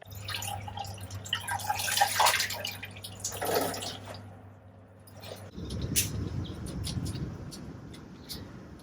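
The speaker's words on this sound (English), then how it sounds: "time to get the mordanted fabric out, give it a rinse" Mordanted fabric being rinsed in water, with splashing and dripping up close, a steady hum underneath during the first half, then a lower sloshing wash of water, no talking.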